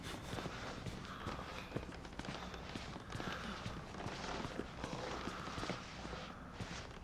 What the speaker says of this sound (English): Oh, it was your guy walking around. I thought I was hearing footsteps.